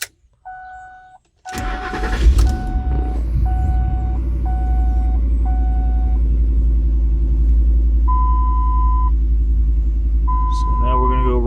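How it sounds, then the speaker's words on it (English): A 2006 Ford Expedition truck engine cranks briefly and catches, then idles steadily and close, while a battery tester emits a series of short electronic beeps. "So now it's telling me to start the truck."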